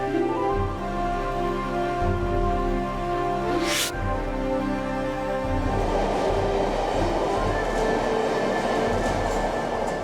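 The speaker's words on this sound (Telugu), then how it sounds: "మెట్రో ట్రైన్ చాలా బాగుంది కదా" A metro train in a video game hums with a continuous low rumble, broken by one sharp whooshing sweep partway through, then grows into a louder rushing roar.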